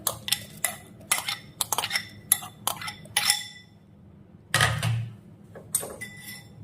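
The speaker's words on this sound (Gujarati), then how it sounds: "એક મિક્સર જારમાં કેરીના કટકા નાખીશું।" Cut mango pieces dropped into a mixer jar, a series of close hollow clinks and knocks in irregular bursts, with brief pauses between them.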